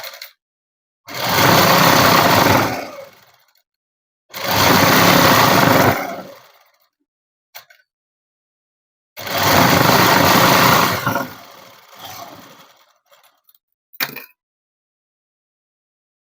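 An electric sewing machine stitching net cloth for a dress, running in three long whirring bursts of about two seconds each with silent pauses between, followed by a few short stuttering starts and stops.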